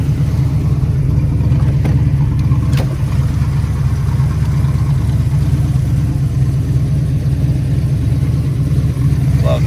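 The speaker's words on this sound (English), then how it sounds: "So we'll take this car for a spin." A 1979 Pontiac Trans Am Y84 Special Edition sits idling, its engine giving a loud, steady low rumble throughout, with a couple of faint clicks near the start.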